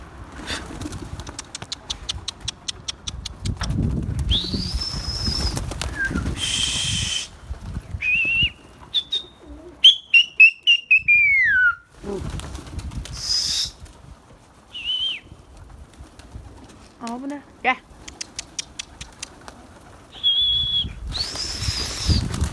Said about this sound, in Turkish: Yukarıdan kuşları geldi.